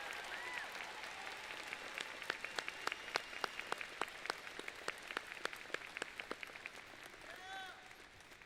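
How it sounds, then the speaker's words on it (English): An audience at the Canyon Lake High School Class of 2025 graduation ceremony applauds the faculty, with scattered, sparse claps that come across as fairly faint and distant, continuing steadily throughout. "please join me in thanking these wonderful educators with a round of applause"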